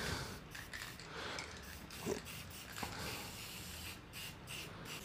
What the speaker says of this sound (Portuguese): É só espirrar o spray, você sabe, chacoalha bem ele